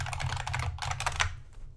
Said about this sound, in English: I just realized I have my loud keyboard today, so you're probably enjoying that clackety clack clack sound